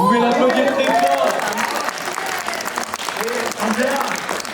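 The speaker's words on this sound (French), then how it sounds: "Vous pouvez l'applaudir très fort." An audience at the Magic Odyssey 2026 magic show applauds a performer, a rolling crowd clap that holds steady while voices talk over it.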